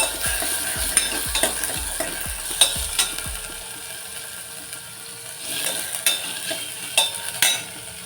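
Onion frying in a pan with a steady sizzle, while a utensil scrapes and taps against the pan in a quick run of stirring strokes, then a few more scattered clinks over the continuing hiss.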